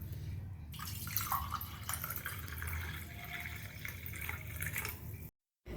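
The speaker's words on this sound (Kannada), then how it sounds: "ನೀರನ್ನು ಹಾಕ್ಕೊಳ್ಳಿ ಎಷ್ಟು ಬೇಕು ನೋಡಿಕೊಂಡು." Water is poured into a lime juice drink sweetened with sugar, giving a faint, steady splashing trickle for about five seconds before cutting off abruptly.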